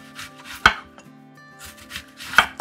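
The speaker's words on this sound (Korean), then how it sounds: "너무 얇지 않게 약간 두툼하게 링 모양으로 이렇게 썰어 주세요." A knife cuts a whole onion into thick rings on a board, two sharp chopping strikes landing about two seconds apart with quieter rubbing and handling in between, close and alone with no talk.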